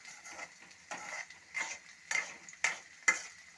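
Onion sautés in oil with cumin and mustard seeds in a pan, heard faintly as a soft sizzle broken by regular scraping strokes about every half second as the mixture is stirred, with no talk.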